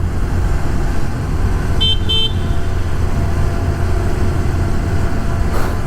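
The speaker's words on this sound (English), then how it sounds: "I love honking the horn on this thing." A Honda CT125 motorcycle cruising on a mountain parkway gives two short toots of its horn over steady road and engine noise.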